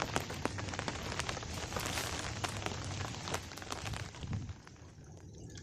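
Heavy rain pours down in a dense, steady hiss, with sharp drops pattering loudly on a nearby surface and no voices.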